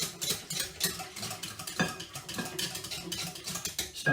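Light clinks and scraping from mixing yeast into a small bowl of liquid for no-knead spelt bread with hemp seeds, a quick irregular stirring rhythm close by, alone with no talk.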